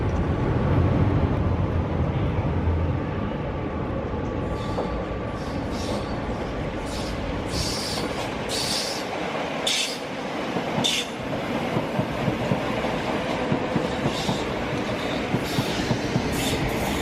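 Greater Anglia trains pass along the route near Stratford in London, a loud rumbling roll with rhythmic clatter and brief metallic wheel squeals, steady and close for the whole stretch.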